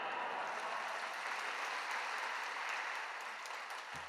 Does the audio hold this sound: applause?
yes